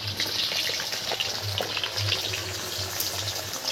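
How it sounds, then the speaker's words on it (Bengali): Large cut potato pieces frying in hot oil, a steady dense sizzle and crackle with a low bubbling pulse underneath, close and continuous without talk. "অন্য আলু ভাজা হচ্ছে, বড় বড় করে কেটে রাখা, সেইগুলো বাপি প্রথমে ভেজে নিচ্ছে"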